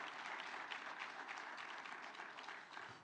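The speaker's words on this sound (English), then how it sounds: "that's good to applaud for that" An audience applauds at a political conference speech, a steady wash of clapping from many hands, distant and fairly quiet, with no voices over it.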